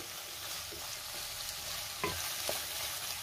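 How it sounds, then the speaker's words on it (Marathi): Bell pepper (capsicum) sautéing in a pan for a paneer masala, giving a steady soft sizzle with a few light stirring scrapes near the end. "पुन्हा 2 मिनिटं ढोबळी मिरची आपल्याला परतून घ्यायची आहे, म्हणजे थोडी सॉफ्ट होईल।"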